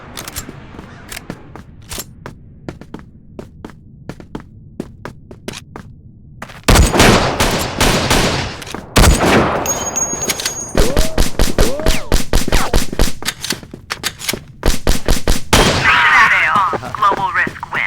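Sniper rifle fire in a video game rings out as loud, sharp shots, with a sparse ticking stretch followed by dense rapid bursts of gunfire and thuds, all close and continuous over most of the span.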